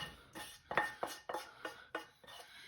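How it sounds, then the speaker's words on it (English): Onions and pepper go into coarse ground pork in a bowl. Soft scraping and clinking of a utensil against the bowl repeat in an uneven rhythm, close and fairly quiet, with no talking. "I'm going to add my onions into it with the pepper."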